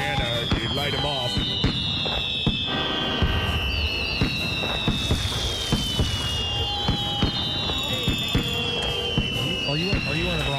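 Fireworks go off in a rapid series of whistling rockets and sharp crackling bangs, with voices audible among the blasts.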